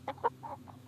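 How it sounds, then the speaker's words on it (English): A hen clucks in a quick series of soft, clipped notes, four or five calls spaced unevenly over a second, fairly close against a quiet background. "hen"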